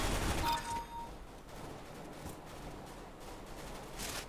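Distant gunfire in CS:GO, a short burst of shots near the start followed by faint scattered reports in the background, fairly quiet throughout.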